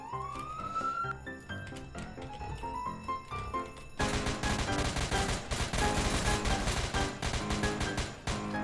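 Rapid bursts of gunfire in the Roblox game ERLC, loud and dense like machine-gun fire, following a rising and falling police siren wail that sounds alone at first.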